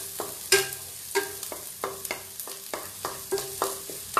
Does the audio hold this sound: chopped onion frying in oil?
yes